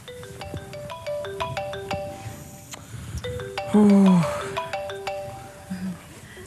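A phone ringtone plays as a bright, repeating electronic melody of short tonal notes in a household scene, running under busy background noise and brief vocal sounds.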